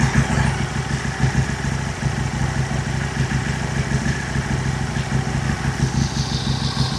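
An Aprilia Tuono motorcycle engine idles steadily, a close, continuous low throb with a slightly fluctuating rhythm and some mechanical clatter, and no voices over it.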